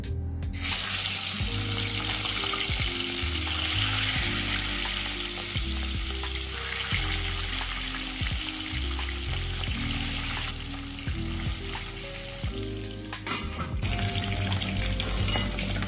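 Big catla fish pieces sizzling and frying in hot oil, a continuous loud crackle with intermittent clinks and stirring knocks throughout, no talking.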